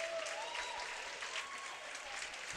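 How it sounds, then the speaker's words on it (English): Spectators at a high school swim meet applaud and cheer swimmers heading into the touch boards, with steady clapping and scattered whistles that sound indoors and moderately distant. "So the crowd urging a few of the participants on as they make their way to the touch board."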